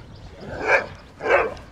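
A dog at a dog beach gives two sharp barks, roughly half a second apart, close and fairly loud.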